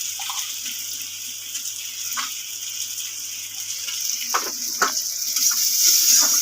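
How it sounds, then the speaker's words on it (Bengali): Water is poured into a cooking pot of onions, tomatoes and spices, a soft continuous splashing hiss with a few light knocks that grows louder toward the end. "এবার জল দিয়ে দেবো।"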